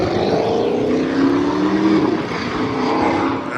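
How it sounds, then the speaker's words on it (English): A Dodge Hellcat's engine gives a loud, steady, droning roar that holds throughout, with the pitch rising and sweeping near the middle as the engine revs. No voices are heard. "the Hellcat make a lot of noise."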